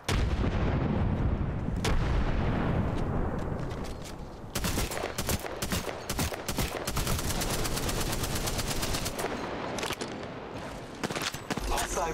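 Video game firefight with a frag grenade blast and dense, rapid bursts of gunfire, loud and continuous throughout, with crackling volleys overlapping.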